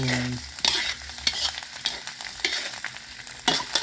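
Pork stir-fried with curry paste crackles in a pan, with a moderate sizzle broken by repeated spatula scrapes and knocks in an uneven rhythm.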